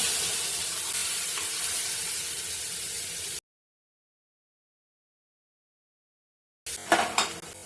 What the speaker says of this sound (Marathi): याच्यात थोडं तेल घेते अर्धा चमचा मी राई टाकते थोडासा मिरं बारीक चिरलेला कांदा